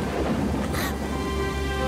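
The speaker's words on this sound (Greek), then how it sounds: "Τρομερή καταιγίδα." A thunderstorm in an animated fairy tale, with steady rain and a low, continuous rumble of thunder filling the short stretch.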